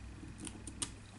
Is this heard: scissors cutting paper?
yes